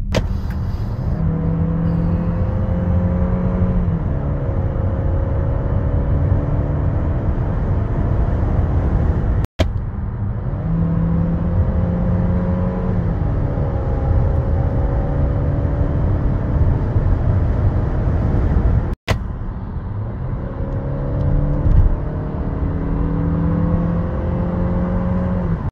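A 2023 SsangYong Torres engine hums steadily from inside the cabin, its pitch climbing in repeated rising sweeps as the vehicle accelerates through the gears, with a continuous road rumble underneath.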